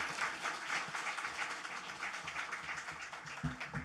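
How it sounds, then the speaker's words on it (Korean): A church congregation at a Sunday worship service applauds to welcome a missionary speaker, a faint, steady patter of clapping from a seated crowd. "우리 장주동 선교사님 우리 큰 박수로 환영하여 맞이하도록 하겠습니다"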